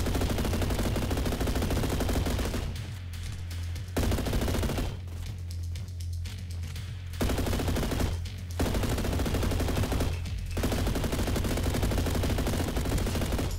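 Sustained automatic fire from a G3A4 rifle in a first-person shooter, loud and close, in bursts of rapid shots separated by short pauses.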